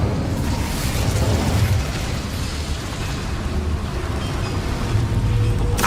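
An Incendio fire spell in Hogwarts Legacy unleashes a loud, sustained roaring whoosh of fire with low booming rumble. The dense blast fills the whole stretch with no speech over it.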